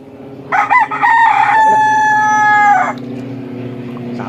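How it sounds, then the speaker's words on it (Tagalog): A loud, close rooster crow rings out in one long drawn-out call, starting with a couple of short notes and fading after about two seconds. "Sapa ni manok eh."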